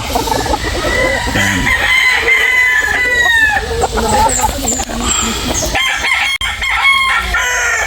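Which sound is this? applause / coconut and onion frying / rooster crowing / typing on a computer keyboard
rooster crowing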